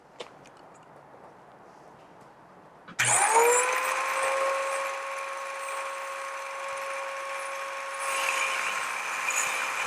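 A power saw cutting wood for a farmhouse-style side table starts abruptly after a quiet stretch, then runs loud and steady at an even pitch for about seven seconds, with no talk over it.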